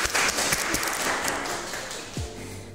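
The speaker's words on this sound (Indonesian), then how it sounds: "Tepuk tangan" Applause from an audience at a student film event at Universitas Tanjung Pura: a short burst of clapping over a busy background, with a few sharper claps standing out.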